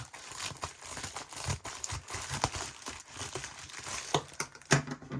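Cardboard and plastic book packaging crinkling, crumpling and tearing as it is cut open, a close, busy run of scratchy rustles with sharper rips toward the end.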